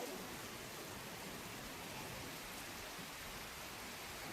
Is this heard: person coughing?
no